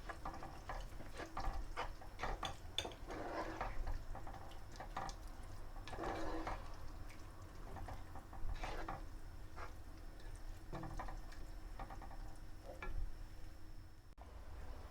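Boiled chickpeas are stirred into fried masala in a pot, with a spoon scraping and clattering in irregular strokes over a soft background sizzle.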